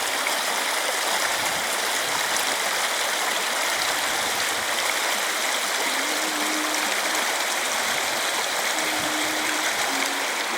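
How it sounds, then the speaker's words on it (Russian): The clear Ivunya river flows and babbles in a steady, close, continuous wash of water, with no voices and only a couple of brief faint tonal chirps partway through. "Чистая-пречистая речка Ивунья поет нам песенку"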